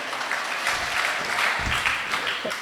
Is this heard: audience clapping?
yes